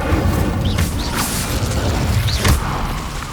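A fire spell cast in the Hogwarts Legacy video game, whooshing bursts and booming hits over a busy combat din, with a couple of swishing surges and a louder impact midway.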